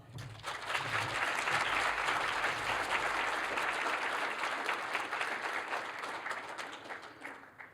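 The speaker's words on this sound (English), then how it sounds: "let's welcome them with a huge round of applause" Sustained applause from a large audience, loud and steady for several seconds before gradually thinning out toward the end.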